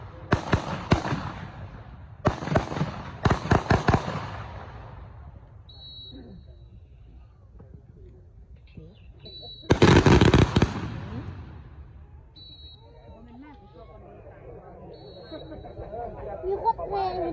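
Guns fired into the sky at an army infantry battalion weapons demonstration: several sharp loud bursts of rapid shots in clusters, then a single big burst near ten seconds, with crowd chatter and distant voices between.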